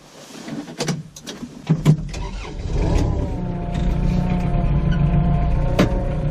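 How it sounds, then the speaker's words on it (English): A tractor with a front loader cranks with a few uneven starter bursts, then catches and settles into a steady low diesel idle, close and continuous. "So now I'll start the tractor and put it in float."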